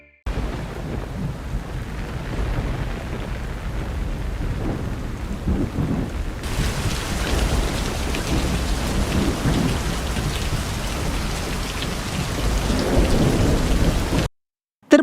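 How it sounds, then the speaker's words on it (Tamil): Heavy rain pours steadily over Vaniyambadi in Tirupattur district, with rolling thunder rumbling beneath the downpour; the roar grows denser and louder about halfway through before cutting off near the end. "அரை மணி நேரத்திற்கும் மேலாக பலத்த மழை கொட்டி தீர்த்தது"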